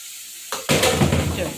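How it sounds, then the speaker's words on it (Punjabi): Spice tempering (tadka) hits a hot pan, bursting into a sudden loud sizzle after a brief quiet moment, with a sharp initial hiss and crackling that settles into steady frying. "ਚਲੋ ਜੀ ਹੁਣ ਲਾ ਲਈਏ ਤੜਕਾ"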